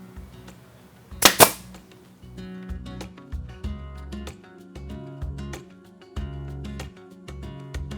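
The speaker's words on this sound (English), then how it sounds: "we're going to use our long nose staple gun to staple it in place" Long nose staple gun fastening a leather strap to a woven stool, one sharp loud snap followed by a rapid second, then quieter thuds and handling clatter.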